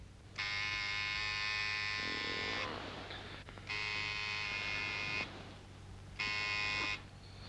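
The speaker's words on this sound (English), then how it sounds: "Just reach over and very firmly press the buzzer." An electric buzzer, pressed firmly, gives three harsh, steady buzzes of about two seconds each with short gaps, over a low room hum.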